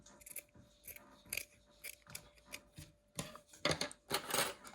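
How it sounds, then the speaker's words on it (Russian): Scissors trim velvet fabric covering a crown, heard as a close series of crisp, uneven snips that come faster and louder toward the end, with no talking. "Сначала большими ножницами, чтобы убрать самое крупное, а затем ножницами поменьше."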